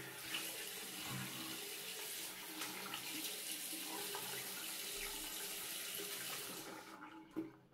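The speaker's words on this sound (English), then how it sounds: "Let's wet the face." Water running steadily from a tap into a sink to wet the face before a budget shave, a continuous close hiss that cuts off near the end.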